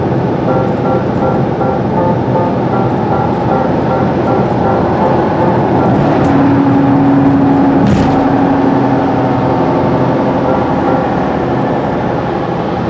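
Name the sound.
small car driving noisily on the road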